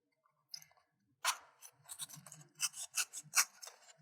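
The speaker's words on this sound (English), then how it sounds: "cut it with a craft knife or a pair of scissors." Scissors or a craft knife snip through paper wrapped around a cardboard toilet roll, heard as a close, quiet series of short crisp cutting and rasping strokes in an irregular rhythm, with no talking.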